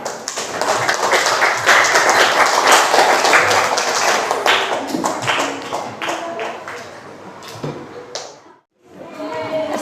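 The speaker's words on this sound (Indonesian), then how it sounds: "Kita kasih tepuk tangan untuk kelompok B." Students in a classroom applaud a group presentation with dense, steady clapping for about eight seconds. It drops out briefly, then a voice and more sound pick up again.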